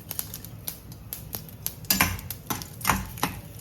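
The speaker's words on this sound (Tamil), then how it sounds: "கடுகு போட்டு பொரிய ஆரம்பித்ததுக்கப்புறம் கடலைப்பருப்பு உளுத்தம் பருப்புலாம் போட்டுக்கோங்க" Mustard seeds, chana dal and urad dal sputter in hot oil in a kitchen pan. Rapid, irregular sharp pops and crackles come close and fairly loud, with a few louder bursts in the middle.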